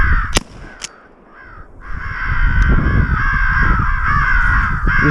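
An electronic caller loudly plays crow fight calls outdoors during a crow hunt: harsh, raspy caws in dense overlapping bursts, punctuated by a few sharp gunshot-like cracks.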